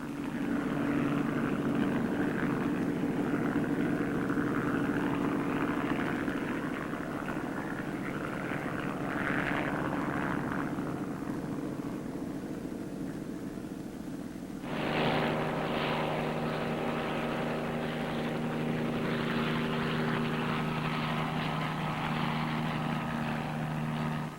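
A military Marine helicopter drones loudly and continuously with a steady rotor and engine roar, its pitch shifting midway as it passes.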